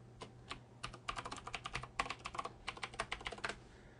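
A password is typed on a computer keyboard: a quick, irregular run of crisp key clicks, close and fairly quiet, with short pauses between bursts.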